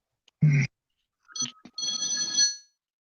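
A phone's electronic ringtone sounds during a live Star Wars chat stream, with a short burst followed by a longer bright warbling ring of about a second, fairly clear and alone with no talk over it.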